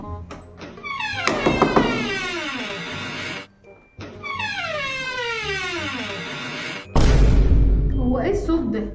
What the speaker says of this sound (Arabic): الباب بيزيق، عامل صوت عالي قوي